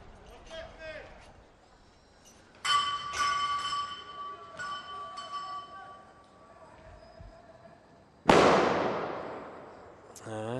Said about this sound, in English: I've heard one bang just go off outside the studio here.